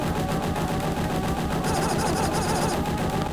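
Rapid automatic gunfire in the Aliens video game, a dense continuous stream of loud shots that carries on through the whole stretch, close and alone with no talk.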